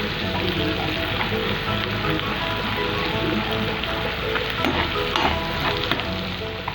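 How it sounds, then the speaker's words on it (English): Ginger, garlic and green chilies sauté in hot oil in a pan, giving a steady, close sizzle with crackling spatters and occasional stirring scrapes, continuous and unbroken with no talking. "Add the ginger, garlic and green chili and saute for 1 to 2 minutes"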